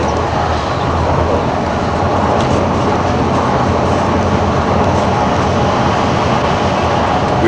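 Steady loud rumble of the Disneyland Monorail running along its track, heard from inside the train as a continuous dense roar with no pauses.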